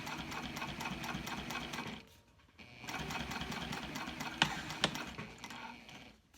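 A sewing machine stitches around the edge of a fabric bifold wallet, a rapid steady whir with a ticking needle rhythm, a brief pause, then a second run with a couple of louder clunks.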